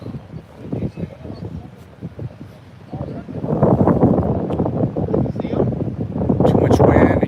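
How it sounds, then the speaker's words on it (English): Strong gusts buffet a microphone outdoors with a low, uneven roar that builds and stays heavy through the second half, loud under occasional talk. "It's really windy."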